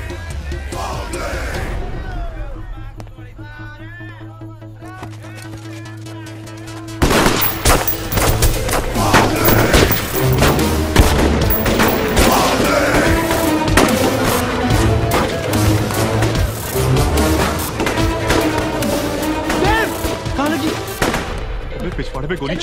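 Gunfire in a Bollywood comedy film scene, heard as loud, dense bursts of shots and booms that swell after a quieter start and continue steadily beneath yelling voices and a music score.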